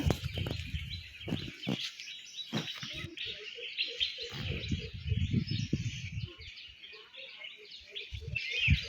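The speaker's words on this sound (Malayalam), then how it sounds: "നമ്മുടെ പ്രകൃതിയിലെ കുരുവികളുടെ സൗണ്ട് ആസ്വദിക്കാൻ വന്ന കേട്ടോ" Sparrows chirp busily in overlapping quick calls, moderately close, among dry thorny bushes, with intermittent low rustling and bumps around them.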